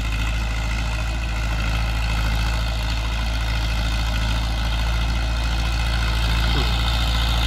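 A Ford 6610 4WD tractor engine idles steadily up close, a constant low diesel rumble with a droning hum that holds level throughout, with no talking.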